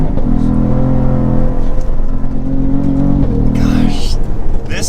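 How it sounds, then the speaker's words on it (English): A 2022 Cadillac CT4-V Blackwing on a mountain road, its exhaust droning steadily at a held rev with a brief dip, loud and close under cabin noise, with a voice speaking over it. "but the exhaust makes real sounds"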